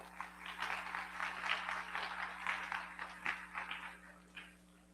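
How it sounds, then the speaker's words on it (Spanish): Audience applause at a university reading and library event, faint and somewhat distant, a dense patter of claps that holds for about four seconds before tapering off, with low electrical hum beneath. "Bueno, un aplausito."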